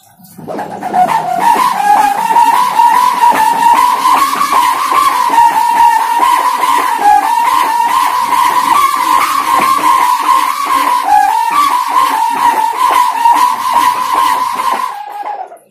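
A kite hummer made of a fiber strip gives a loud, steady buzzing hum with a wavering pitch, droning continuously like a taut strip vibrating in strong wind, close and unbroken.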